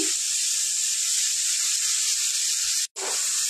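Amul desi ghee sizzles in a pan of frying radish greens, a steady close hiss running continuously with one brief cut near the end.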